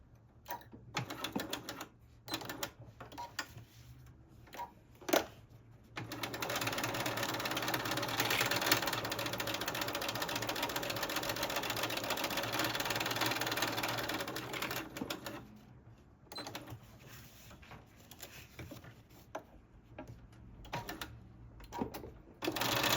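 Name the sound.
sewing machine stitching binding edge on quilted sneakers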